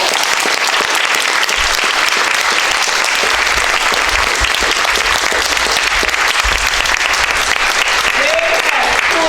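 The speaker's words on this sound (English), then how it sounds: "Please give them a round of applause." A crowd at the Gullah Geechee Create 2024 gathering applauds the artists in a steady, dense round of clapping that holds loud and unbroken throughout, with no voices standing out.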